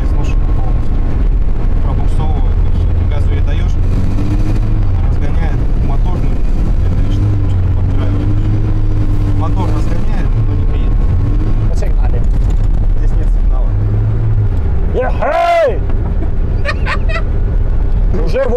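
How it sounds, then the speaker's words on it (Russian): A Volga car cruises at 80 km/h with a continuous loud engine and road roar, while people talk over it and a sharp burst of noise comes near the end. "80 километров в час мы едем"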